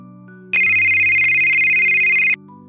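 A mobile phone plays an incoming-call ringtone, a loud steady electronic tone held for about two seconds before cutting off, with a soft musical background underneath.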